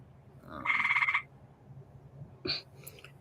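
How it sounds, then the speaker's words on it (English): A short burst of high, rapid chirping from a tree frog, followed by a brief faint click and scattered softer chirps, with no talking. "You hear that chirping? That is a frog, a tree frog."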